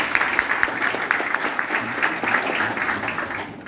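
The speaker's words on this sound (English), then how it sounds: "can the room please give them a round of applause?" An audience at the JA Eswatini Expo 2021 gives a round of applause, with dense, steady clapping from a room full of people, loud and close, tapering slightly near the end.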